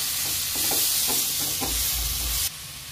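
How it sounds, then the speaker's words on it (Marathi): Tomatoes sauté in a pan with a loud, close, continuous sizzle, and a spoon scrapes and taps rhythmically through it before the hiss drops suddenly near the end. "टोमॅटो आपला छान परतून झालेला आहे"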